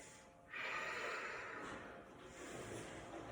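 Steady airy breathing during a yoga session, a sharp inhale that swells and then settles into a long, even exhale, close and alone with no talk.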